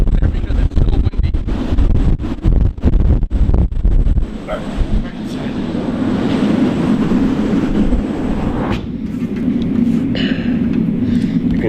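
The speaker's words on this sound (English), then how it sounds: "You can hear it like roaring out there." Hurricane Ida's strong wind roars and buffets the microphone, with heavy gusty rumble at first, then a steadier howling rush continuing to the end.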